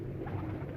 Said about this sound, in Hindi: अच्छा, ये जो मेरे कबूतर हैं,